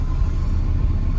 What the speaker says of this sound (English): I'm learning how to drive my new car, so I'm gonna try and get to third gear and then reverse